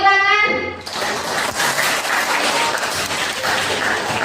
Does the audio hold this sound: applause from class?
yes